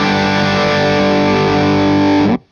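A single heavily distorted electric guitar chord through an Orange Rocker 15 Terror head and 2x12 cabinet rings out loud and sustained, then cuts off abruptly near the end.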